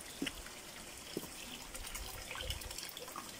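Water runs from a garden hose with a steady trickling flow, soft splashes and a few faint knocks and drips in the background.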